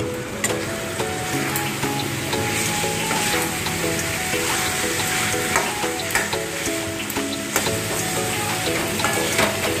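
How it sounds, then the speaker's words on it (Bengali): Salted fried chicken sizzles in spiced oil in a pan, a loud, steady crackle and hiss with scattered pops and stirring scrapes, close up and without talk. "এবার আগে থেকে নুন দিয়ে মেখে রাখা ভাজা চিকেনটা আমি এতে দিয়ে দিচ্ছি"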